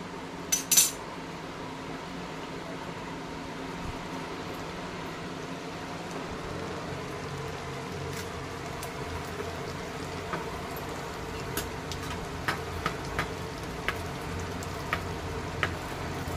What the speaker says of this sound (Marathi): या लाल सुक्या मिरचीचा तडका देऊया